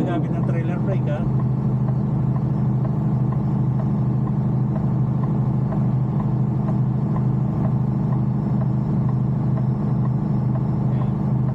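A truck engine with the exhaust brake engaged rumbles steadily and loudly on an icy road, a constant low drone heard from inside the cab with someone talking over it.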